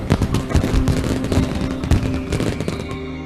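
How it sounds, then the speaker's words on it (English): Homemade fireworks at a Maltese village feast crackle and pop in dense, rapid bursts, loud and close, a continuous rattling barrage of sharp reports with no voices. "Every village stages dramatic firework displays. Most fireworks are homemade"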